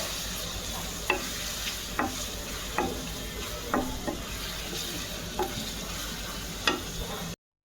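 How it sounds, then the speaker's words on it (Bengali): Ginger paste being fried and stirred in a pan: a steady sizzle with regular spoon scrapes roughly every second, fairly close, no talking, cutting to silence near the end. "আদা বাটাটা দিয়ে আমি ভালোভাবে কষাই নিব একদম।"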